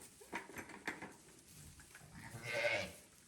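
Sheep and lambs bleat on a farm, with a few wavering cries close by and one louder, drawn-out bleat near the end over soft background rustle.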